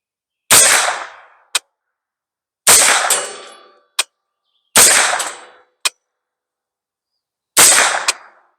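A 9mm AM9 carbine firing Sterling 115gr FMJ brass-cased ammo at a steel target 25 yards away, four sharp shots spaced a couple of seconds apart, each followed about a second later by a metallic ping from the steel.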